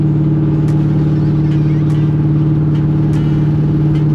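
A car launches hard off the line, heard from close range as a loud, steady engine drone with faint periodic clicks over the top.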